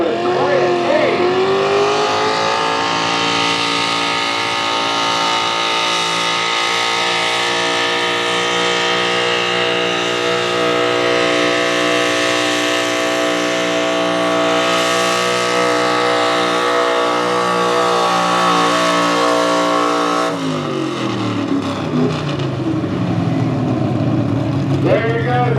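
A modified small-block mini pickup truck pulls a sled at a truck-pull event, its engine screaming loud and sustained as it climbs in pitch, then cutting off near the end while an announcer talks over the roar.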